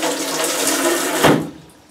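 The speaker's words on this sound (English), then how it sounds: "Let's turn the water on a little bit." Water rushes through a toilet supply line into the fill valve, a loud, close hiss and gush with a brief surge before it fades out.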